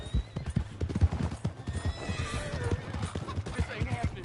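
Horse hooves clip-clopping at a gallop with sharp neighs and whinnies in Red Dead Redemption, loud and close, with the rider's voice and shouting over the rhythmic hoofbeats.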